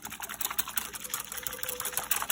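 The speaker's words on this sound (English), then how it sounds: "Now we're just gonna whisk this to completely combine it." Steady, rapid whisking of a warm strawberry mixture into a gelatin and sugar or honey mix, a fast even swishing rhythm, close and moderately loud throughout with no talking.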